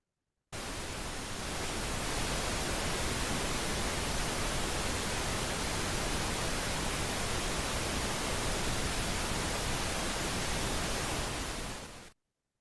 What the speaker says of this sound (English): You're going to hear this pink noise now for about 5 seconds.